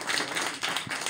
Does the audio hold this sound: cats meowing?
no